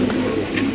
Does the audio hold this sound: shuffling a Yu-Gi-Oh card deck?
no